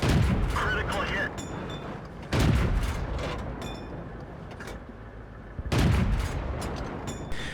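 Tank cannon shots and hits boom out in a World of Tanks-style battle on the Steppes map, three loud blasts spaced a few seconds apart, each decaying into rumbling echoes.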